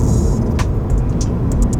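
A 2022 Cadillac CT4-V Blackwing engine hums as the car drives in rev match mode. It gives a steady, close, loud low rumble under cabin noise for a couple of seconds, with light clicks on top.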